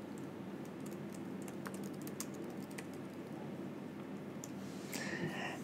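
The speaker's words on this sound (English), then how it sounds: "you might want to start typing over the side here." Computer keyboard typing on a Windows PC, quick irregular key clicks tapping in light bursts against a quiet room hum, ending with a slightly louder clatter.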